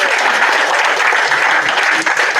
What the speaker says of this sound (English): Final round of applause for